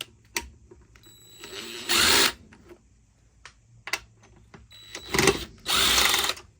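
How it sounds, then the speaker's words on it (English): Two bursts of a power screwdriver backing out the pair of Phillips screws holding the shifter on a Whirlpool washer, each a loud whirring run of about half a second, separated by quiet handling clicks. "I'm going to remove the shifter. 2 screws, Phillips screws."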